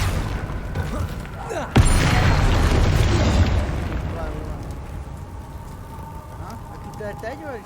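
Confringo fire-spell explosion in Hogwarts Legacy: a sharp, loud burst erupts and rumbles on for a couple of seconds, then fades into softer game ambience and effects.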